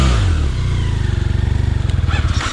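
A motorcycle engine revs hard and loud up close as the bike pushes through deep sand on a Jalapão expedition trail, a throbbing pulsing drone with some rattling clatter and no talking over it.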